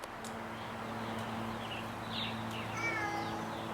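A cat lets out a couple of short meows near the end, fairly faint over a low steady background hum.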